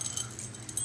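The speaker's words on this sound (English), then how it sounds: "my house keys. So it's this little butterfly keychain." House keys on a small butterfly keychain jangle briefly up close, a quick bright metallic rattle with light clinks, alone and fairly quiet.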